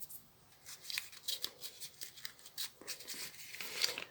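Scissors snipping through paper scraps in a steady series of quick, crisp cuts, close and fairly quiet, with light rustling of paper between strokes.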